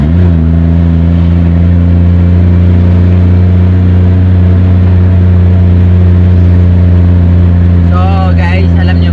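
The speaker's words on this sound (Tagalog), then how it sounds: "ang lakas-lakas ng tunog ng sasakyan namin guys, yung sinasakyan namin ngayon" A loud car engine drones steadily from inside the moving vehicle while riding through a barangay in Davao City, with a brief rise in pitch near the end.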